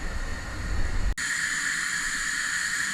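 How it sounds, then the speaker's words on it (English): Filipino fishballs dropped into medium-high hot oil, a sudden cut giving way to a steady bright sizzling hiss that stays loud and even throughout, with no talking. "There's only one thing left to do, and that is to fry them."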